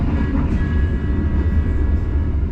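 A passenger train, the Pariaman Express in West Sumatra, rolls along its tracks with a loud, steady low rumble heard from on board, a faint thin tone running through it and no talk.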